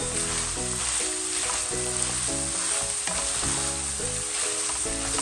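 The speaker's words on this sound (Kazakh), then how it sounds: "жақсылап араластырып қуырып аламыз" Onion, carrot, cauliflower and minced meat sizzle steadily in a frying pan, a loud continuous crackle broken by repeated scraping stirs, with no voices.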